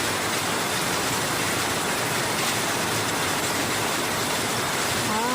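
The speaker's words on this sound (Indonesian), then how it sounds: "Hujannya tambah deras teman-teman." Heavy rain pouring steadily in a village in Hong Kong, a dense, continuous broadband hiss that stays loud and unbroken throughout with no voices.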